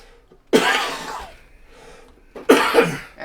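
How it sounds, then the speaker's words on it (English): Two harsh, close coughs about two seconds apart, each a sharp burst trailing off, with quiet between them. "Apologize for the coughing."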